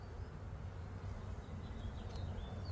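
Honey bees buzz around a hive in a garden apiary, a soft, steady hum that stays faint and continuous beneath a broad outdoor hiss, with no talking.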